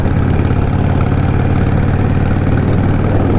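A Harley-Davidson Nightster 1200 motorcycle engine runs loud and steady, a close, deep rumbling drone with a fast even pulsing throb and no voices.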